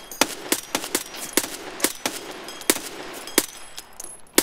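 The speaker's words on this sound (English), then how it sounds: "3, 2, I'm gonna shoot." Gunfire in Escape from Tarkov, a rapid series of sharp, loud shots in uneven bursts, some clustered close together and others spaced apart, with no talk over them.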